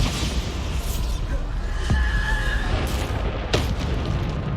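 Bombarda explosion spells in the video game Hogwarts Legacy during a duel: a couple of sharp booming blasts with whooshing magical effects over a dense, noisy battle bed, loud and close.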